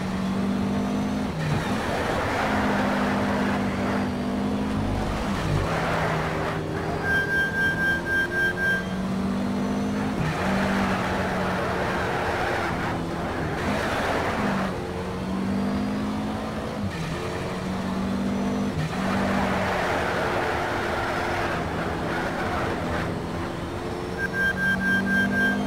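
A car in Need for Speed Shift races around a circuit suited to drifting, its engine loud and continuous with repeated revving climbs and gear changes and occasional tire squeal.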